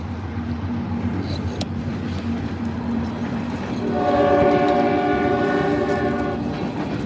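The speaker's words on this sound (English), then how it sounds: "The train is coming." A train rumbles past close by in Ironton, Ohio, its steady roar joined partway through by a loud, sustained multi-tone horn blast that continues to the end.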